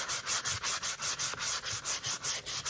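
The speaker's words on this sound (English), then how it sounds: "I'm going to sand the edges of the church," Rhythmic hand sanding along the edges of a painted primitive wooden church decoration, about a dozen steady back-and-forth rasping strokes, close and clear with no talking.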